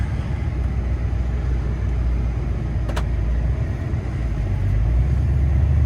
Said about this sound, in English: so I have to back up all the way down our driveway